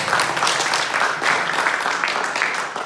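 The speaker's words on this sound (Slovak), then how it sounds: "Dejte mu slávu, dejte mu potlesk." Church congregation applauding together during a worship service, a dense, steady wash of clapping lasting the whole moment at even loudness, with faint voices mixed in.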